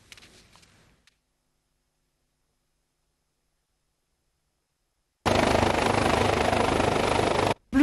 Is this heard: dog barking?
no